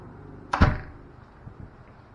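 Pushing the lock button on an inside door of a Jensen Beach bed and breakfast rental gives one sharp, fairly loud click-thump, followed by a faint rattle and then quiet.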